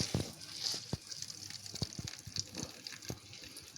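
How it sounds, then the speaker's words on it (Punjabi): Grated bottle gourd squeezed by hand to press out its water, giving soft wet splashes and dribbles into a vessel in irregular bursts, close but quiet, with brief low voice sounds in between. "ਆਪਾਂ ਕੱਦੂ ਜਿਹੜਾ ਸੀ ਉਹਦਾ ਪਾਣੀ ਕੱਢਣ ਲੱਗੇ ਆ ਲੋਕੀ ਦਾ ਆ ਵੇਖੋ ਲੋਕੀ ਦਾ ਪਾਣੀ"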